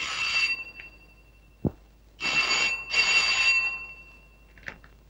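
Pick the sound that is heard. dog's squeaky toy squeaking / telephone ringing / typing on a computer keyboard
telephone ringing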